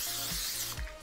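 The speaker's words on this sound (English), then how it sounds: "So I'm gonna go ahead and spray this pan" Pam cooking spray misted onto a baking pan for a Cajun shrimp bake, two short close hissing bursts with a pause between them.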